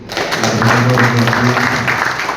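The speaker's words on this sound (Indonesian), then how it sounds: "Kita kasih tepuk tangan dulu." A room full of young people at a church Easter seminar applauding steadily, with cheering voices rising over the dense clapping.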